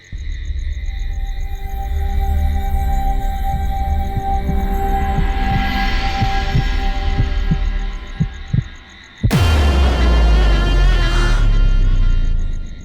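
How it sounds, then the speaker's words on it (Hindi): A mother's heartbeat thumps in a steady, slow rhythm under a low droning hum, the beats soft and regular, then a sudden loud whooshing burst cuts in near the end. "माँ, माँ, मैं आपकी धड़कनें सुन सकती हूँ"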